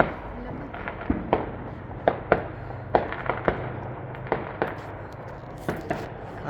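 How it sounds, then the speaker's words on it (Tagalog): New Year fireworks going off outdoors during a snowstorm: a scattered string of sharp pops and bangs at irregular intervals, moderately distant, with a steady low background hum. "may mga fireworks doon, guys"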